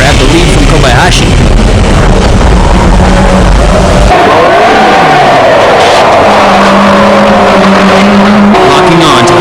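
Race cars, among them an MCR GTR, battle wheel to wheel on the final lap. Loud engines rise and fall as the cars pass and shift, sometimes blaring close and then fading, with commentary heard over the noise.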